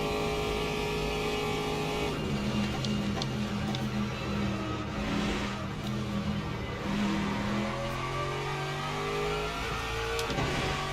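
A race car in the Le Mans Ultimate sim game runs flat out toward the Mulsanne straight, its engine holding a loud, steady high drone with rising pitch sweeps as it shifts up through the gears, no talking.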